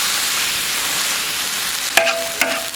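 Meat and white chili fry in a wok, a steady close sizzle with a couple of brief stirring scrapes near the end, no talking.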